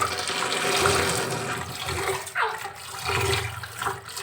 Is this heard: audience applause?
no